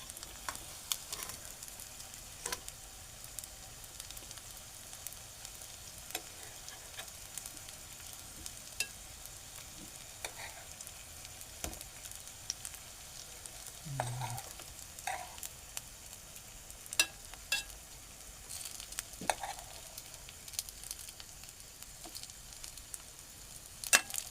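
Leaf vadi (colocasia leaf rolls) shallow frying in a pan, giving a steady close sizzle and crackle with scattered pops and occasional soft scrapes, with no voices.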